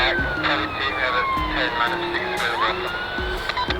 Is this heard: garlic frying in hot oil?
no